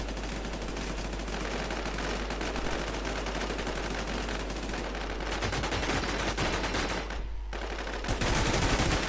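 Rapid automatic gunfire in the online survival shooter game WarZ keeps up a dense, loud clatter for the whole stretch, with a brief gap near the end before it resumes.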